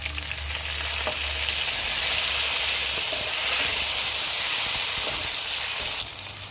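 Onions, whole spices and tomatoes fry in a pan, giving a loud, steady sizzle and hiss up close that drops slightly near the end, with no talking over it.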